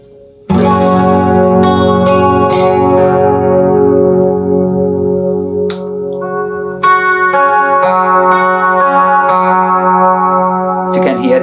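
Electric guitar played through a shimmer reverb pedal, the EHX-style Afterglow, ringing chords swelling into a bright, octave-rich wash that sustains and decays, loud and alone with fresh strums layered over the lingering shimmer.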